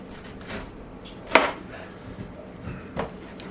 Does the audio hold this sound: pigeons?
no